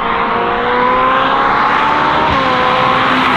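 Ferrari 458 driving on country roads, its engine droning steadily with a high mechanical whine and a constant rush of road and wind noise, loud and continuous from inside the car, with no talking.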